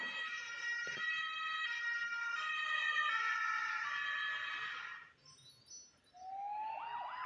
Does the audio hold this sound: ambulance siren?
yes